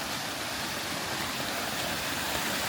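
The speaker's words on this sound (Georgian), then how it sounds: "ჩანჩქერია რა. ნაკადული არის." Forest waterfall and stream, a continuous even wash of rushing water, fairly close and steady throughout with no talking.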